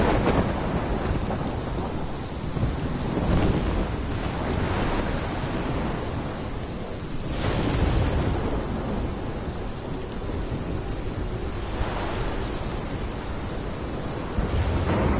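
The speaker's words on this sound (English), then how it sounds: "This is my storm." Thunderstorm in the game Life is Strange, with steady heavy rain and wind roaring throughout and rolling thunder swelling at intervals, loud and close, no voices.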